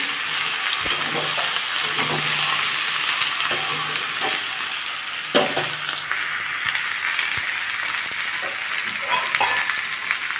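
Washed potatoes frying in a pan for a potato and egg dish, a loud continuous close sizzle broken by occasional spatula scrapes and knocks, with no talking.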